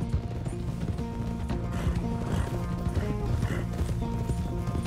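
Horse hooves clip-clop steadily in Red Dead Redemption 2 while a horse is ridden up to the stables, a dense, close rhythm of steps with game music and faint whinnying.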